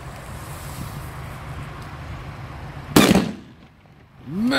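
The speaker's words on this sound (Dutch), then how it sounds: "Ja, echt goede knallers, man." A single sharp Zena J207-4 firecracker bang cuts through steady outdoor background noise, followed by a brief decaying rumble and quiet.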